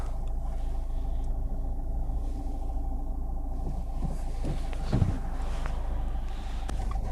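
A 2014 Renault Clio engine idles and rumbles steadily from inside the cabin while reversing, a low continuous drone with a slight thump as the car moves slowly.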